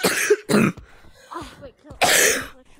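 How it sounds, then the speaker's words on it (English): Four short, harsh coughs and throat-clearing bursts from one person, spaced unevenly over a few seconds, close and fairly loud. "I'm still getting over a cough."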